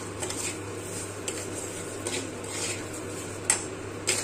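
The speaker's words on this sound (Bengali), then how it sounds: "সবজি আমার ভাজা হয়ে গেছে, এবার ডালিয়াটা এর মধ্যে দিয়ে দেবো।" Broken wheat (dalia) is tipped into a pan of fried vegetables, giving light scattered clinks and taps of utensil on pan, with a couple of sharper metallic knocks near the end over a low steady hum.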